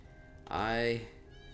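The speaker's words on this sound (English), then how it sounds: "Oh, multiple cats here." A single loud, close cat meow in The Elder Scrolls Online, rising then falling over about half a second, with several cats present in the game scene.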